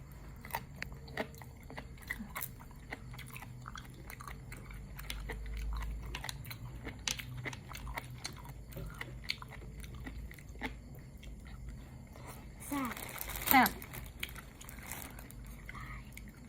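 Close, crunchy chewing and biting of squid tentacles in a spicy Thai seafood salad, with soft irregular crunches throughout and occasional quiet talk in the background.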